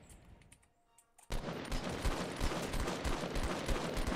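Rapid, loud gunfire from the video game Fortnite erupts after a quiet second and continues as dense, repeated shots for several seconds, with no voices.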